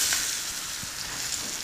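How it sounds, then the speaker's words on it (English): Chicken sizzling in hot oil in a pan, a steady close crackle and hiss of frying with small spits, no voices. "put it right in that nice hot oil. Share a nice sizzle when you drop it in"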